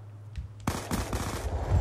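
Gunfire erupts in Black Ops 2 as a rapid burst of automatic shots starts abruptly after a quiet moment and stays close and loud.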